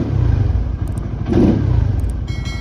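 A motorcycle engine fitted with a custom-tuned ECU rumbles and revs close by, holding a steady low throb with one stronger surge near the middle and no talking.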